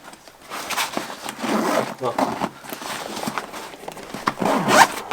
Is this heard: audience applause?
no